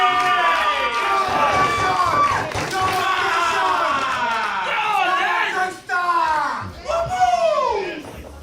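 Spectators at a Slate Pro Championship semi-final shout and cheer, a dense, loud crowd roar of many overlapping voices with rising and falling calls throughout.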